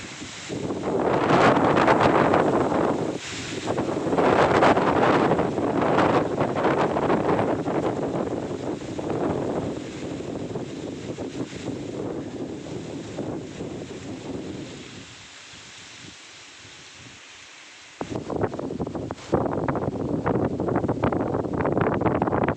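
Strong wind on a mountain ridge buffets the microphone in heavy rushing gusts, eases into a quieter lull, then roars back loud and close.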